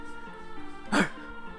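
A Bernese dog gives a single short, sharp bark near the middle, heard over a low murmuring background.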